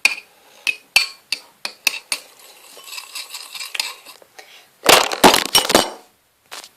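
A spoon stirs melted gummy jelly in a container, clinking and scraping against its sides in a quick irregular rhythm, close and fairly loud, with a louder burst of scraping near the end and no talk.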